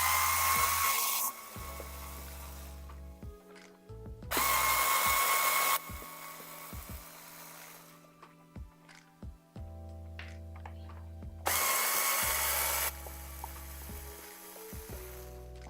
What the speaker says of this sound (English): Hopefully the tool noises aren't too loud.